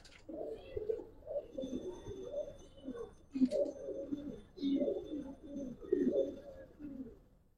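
Giribaz pigeons coo close by in a continuous run of low, throaty, repeated coos that overlap one another.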